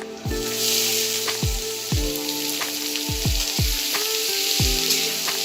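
Onions fry in a pan for dhaba-style chicken curry, with a loud, close, steady sizzle and about seven sharp, evenly spaced stirring scrapes against the pan.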